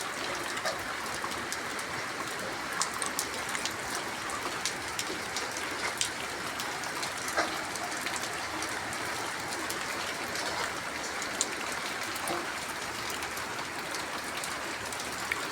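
Heavy rain falls outside in a constant, dense hiss of drops pattering on surfaces, steady and unbroken with faint scattered splashes and no talk.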